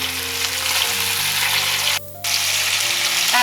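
A salmon fillet pan-searing just after being flipped, giving a loud, continuous close sizzle that briefly cuts out for a moment before resuming.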